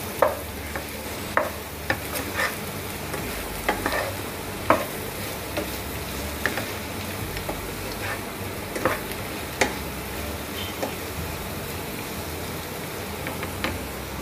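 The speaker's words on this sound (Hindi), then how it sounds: "सब मसालों को अच्छे से आलू में मिला लेंगे हम।" Spiced potatoes for aloo sabzi stir-fried in a pan, a spoon scraping and tapping the metal in scattered sharp knocks over a steady close sizzle of frying oil, with no voices.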